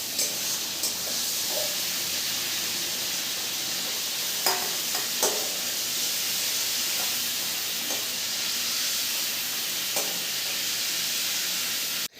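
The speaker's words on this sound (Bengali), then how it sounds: "চিংড়ি মাছগুলো আমার ভাজা হয়ে গেছে" Prawns frying in a pan in a home kitchen, a steady soft hissing sizzle heard up close with a few faint clinks and taps, no voices.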